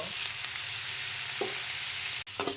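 Boiled figs fry lightly with spices in a pan, sizzling evenly up close while a spatula scrapes a few times, with a brief break near the end.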